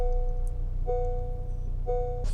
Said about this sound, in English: That noise is to remind you to put your seatbelt on.